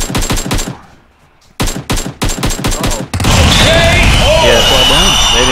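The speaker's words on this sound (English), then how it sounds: "Single tapped him with the AKM" Bursts of AKM assault rifle fire in PUBG Mobile, loud rapid automatic volleys broken by a short gap, then a dense wash of shooting and explosions, close and harsh.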